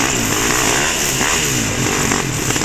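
Dirt bike engine revving hard on a muddy forest trail, a loud close buzzing roar that rises and falls as the rider pushes through.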